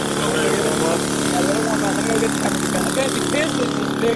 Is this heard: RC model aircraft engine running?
yes